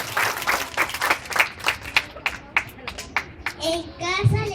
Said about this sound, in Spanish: Vamos a brindar un fuerte aplauso, por favor.